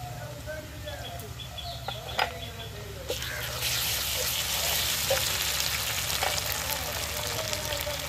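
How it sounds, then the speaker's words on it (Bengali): Ginger garlic paste hits frying onions in oil for a sea crab curry, the sizzle jumping louder midway into a dense, steady hiss with scattered stirring clinks and faint birdsong in the background. "এর মধ্যে আমি আদা রসুন বাটাটা দিয়ে দেবো"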